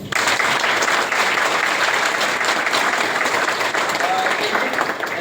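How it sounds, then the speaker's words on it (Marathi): A crowd at a direct selling business meeting breaks into loud, sustained applause that fills the full five seconds as a dense, steady wash of clapping. "तर मग टाळ्या कशा पाहिजे?"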